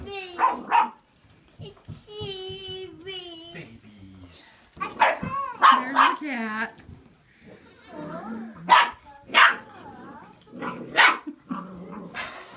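Seven-week-old puppies and their mother dog bark, growl and whimper in quick overlapping bursts while squabbling over food, close and loud, with a person talking briefly between the noises.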